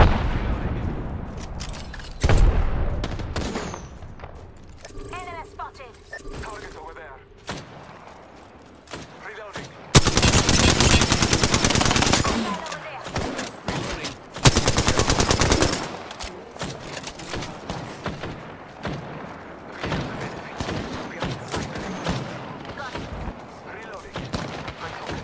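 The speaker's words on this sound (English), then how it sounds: "Frag out. Throwing arc star." Video game firefight with frag grenade and arc star explosions amid bursts of gunfire, loud broadband blasts and rapid shots coming in several bursts, with voice chat talking over parts of the action.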